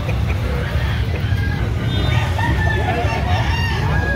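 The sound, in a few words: rooster crowing at gamefowl sale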